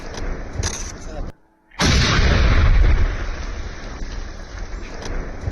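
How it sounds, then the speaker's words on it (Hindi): A loud blast from a controlled IED detonation in Jammu and Kashmir roars out after a brief silence, followed by a sustained rumbling boom that slowly fades under steady background noise. "ये धमाके की आवाज सुन पा रहे हैं आप, ये धमाके की आवाज सुनिए।"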